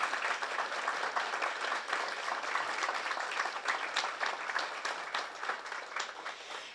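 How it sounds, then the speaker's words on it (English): A conference audience gives a sustained round of applause, dense and even clapping that holds steady before slowly thinning out. "One more round of applause."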